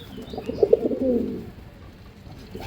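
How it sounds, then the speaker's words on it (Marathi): A single Andhra line pigeon gives one close, low rolling coo that swells and fades within a second or so, followed by quiet. "जबरदस्त क्वालिटीचे कबूतर आहे"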